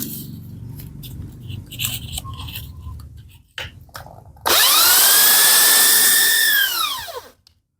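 Scratchy rubbing and handling noises of sanding with 1000-grit sandpaper, then a small power tool spins up to a loud high whine, holds for a few seconds and winds down.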